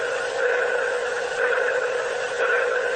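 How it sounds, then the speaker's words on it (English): A strange, steady electronic hum pulses from the Starliner spacecraft docked at the International Space Station, a continuous droning tone with faint wavering throughout, no voices present. "We're talking about that weird sound that's coming from the International Space Station, the Starliner ship there"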